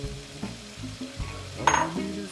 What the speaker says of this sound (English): next step, we're going to add about 2 to 3 cups of authentic paella rice